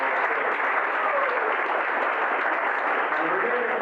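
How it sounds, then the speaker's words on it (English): Steady applause from the audience at a recovery fundraising breakfast, dense, even clapping holding for a few seconds without letting up. "give them a big round of applause"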